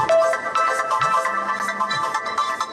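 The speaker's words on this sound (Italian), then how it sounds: "Il telefono squilla," A telephone rings with a loud, electronic warbling ringtone that fills the whole moment, alone and close.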